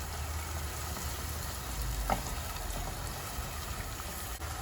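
Onion and minced meat fry in a pan for lasagna, giving a soft, continuous sizzle close by with a faint clink midway.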